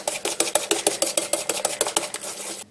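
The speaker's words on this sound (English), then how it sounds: "Whisk together your egg yolks and your sugar." A whisk beating egg yolks and sugar in a bowl: a fast, steady run of about twenty rhythmic clinking strokes, close and bright, with no talking.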